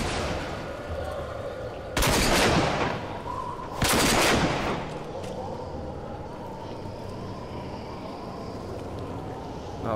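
Gunfire in the video game Rage: two loud, broad bursts of shooting stand out around two and four seconds, over a steady game-ambience bed with other sounds underneath.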